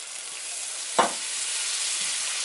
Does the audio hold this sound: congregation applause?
no